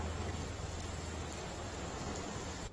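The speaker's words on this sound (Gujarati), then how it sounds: "સમગ્ર ભાવનગર શહેરની અંદર હાલ ધોધમાર વરસાદ વરસી રહ્યો છે" Heavy monsoon rain pours over Bhavnagar city, a dense, steady hiss of downpour on surfaces with no letup, close and constant throughout.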